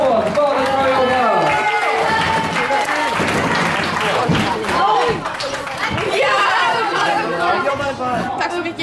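Crowd applauding and cheering at an outdoor scooter competition, a dense sustained wash of clapping with chatter and occasional thuds throughout.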